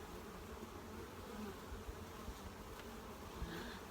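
Honey bees buzz steadily around a hive frame bearing bee bread and a large drone bee, a dense, continuous, fairly quiet hum close by without talking.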